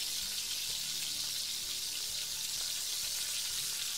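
Shrimp fry for Chinese fried rice in a pan, giving a loud, steady hiss of sizzling oil, close and continuous, with no talking.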